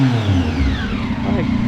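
A Triumph motorcycle with an aftermarket exhaust revving in a close space beside a wall, a loud deep engine drone with a rising and falling whine, a voice speaking over it.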